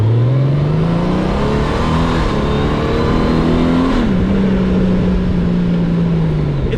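A Honda Goldwing with the DCT automatic transmission accelerates hard, its engine note climbing loud and close with smooth, quick upshifts that drop the pitch briefly before it climbs again.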